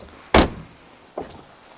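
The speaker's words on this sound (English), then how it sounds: "close the door of this" A small car's door shuts with a sharp, solid thunk, followed a moment later by a softer second knock, in a quiet setting.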